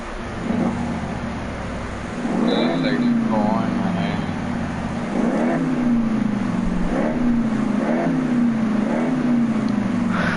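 An old timer car's engine in the Car Mechanic Simulator game idles steadily, then revs up and falls back several times in a regular rhythm, close and loud, with a voice talking over it.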